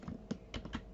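Computer keyboard keys pressed for a Ctrl V paste in SketchUp, a few quick close clicks in about a second, faint and alone.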